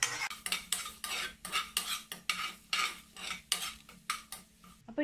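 Black pepper and fenugreek roasting dry in a pan for sambar, a spoon scraping and clinking in a steady rhythm of repeated strokes, close and clear with no talking.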